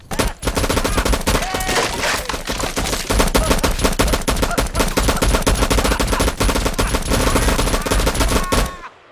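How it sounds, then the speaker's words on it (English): A Gatling gun in the film Tremors 4 fires in a long, loud, rapid continuous burst of shots for nearly nine seconds, then stops abruptly. "Now she can afford a Gatling gun?"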